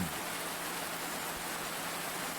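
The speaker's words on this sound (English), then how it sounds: "The rain never seems to cease at this time of year." Steady rain falls without pause in a visual novel video game, a dense, even hiss of downpour filling the scene with no voices or other sounds over it.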